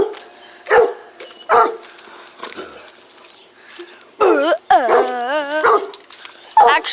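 A dog near a backyard fence barks in short loud bursts, with several single barks spread out and a quick run of yips and higher whimpering notes later. A person is heard faintly talking between the barks.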